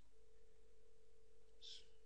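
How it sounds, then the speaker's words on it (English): A phone line rings during a Cisco UCCX contact-center call test, heard as one faint ring tone over a steady hum, with no talk. "you can see here it's actually calling the London agents which is 111 you see it ringing there"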